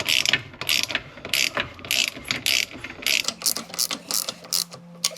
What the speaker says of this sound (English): We're going to roll this motor over